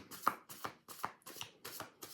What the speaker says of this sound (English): So smooth as they shuffle.